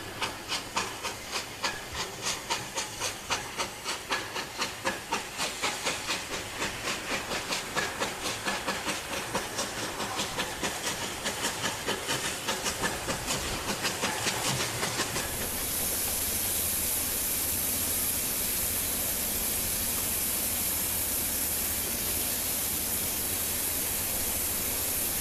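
Steam locomotive 35024 starting away after a signal stop and slipping: a fast, rapid-fire run of sharp exhaust chuffs that suddenly gives way to a loud, steady steam hiss, heard close with no voices.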